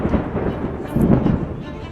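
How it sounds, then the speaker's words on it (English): Driving rain pours steadily with deep, rumbling thunder rolling underneath, swelling louder near the middle before settling back into a constant wet roar. "A driving rain fell"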